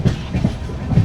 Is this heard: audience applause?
no